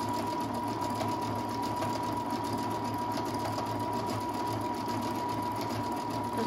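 A Brother Innov-is 200 sewing machine running a decorative stitch, fast steady mechanical whirring and rapid needle clatter, close and continuous throughout.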